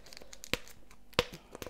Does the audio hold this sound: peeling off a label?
yes